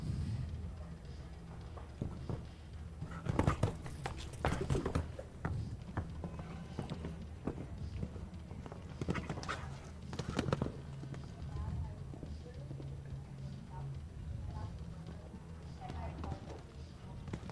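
Horse hooves thud over a 1.50m FEI show jumping course, with scattered strikes and louder bursts of hoofbeats at landings, while a commentator talks over them.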